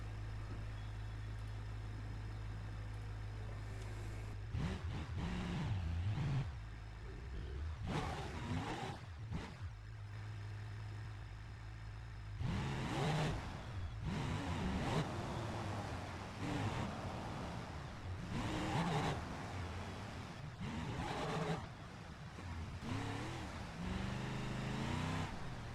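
A 1,300 horsepower van in a driving game, its engine droning low and steady, then revving hard in repeated loud bursts with short gaps between.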